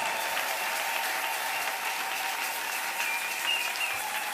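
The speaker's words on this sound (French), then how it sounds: "Est-ce que nous pouvons acclamer fortement pour la gloire de Jésus?" A church congregation applauds loudly and steadily, a dense wash of clapping that holds at an even level throughout without pause.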